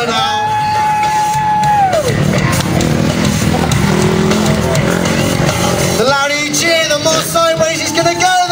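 FMX motocross bike at a freestyle show, its engine revving hard against the rev limiter with wavering, bouncing tones, loud and close, amid a roaring, yelling crowd.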